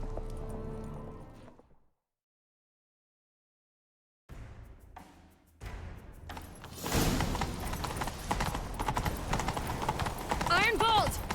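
After a brief silence, horse hooves begin clopping and build into a fast gallop in The Witcher 3, growing louder with a whinny near the end.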